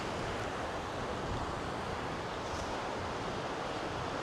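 Pacific Ocean surf on the rocky California coast, a steady broadband roar of breaking waves with wind buffeting the microphone, continuous and fairly close, with no voices.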